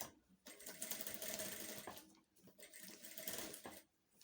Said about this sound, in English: go ahead and sew the armhole area also